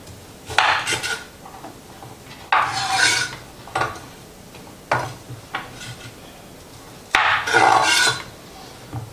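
A knife works through carrots cut lengthwise into fry-shaped sticks on a board, producing several separate bursts of slicing and scraping with quiet pauses between strokes.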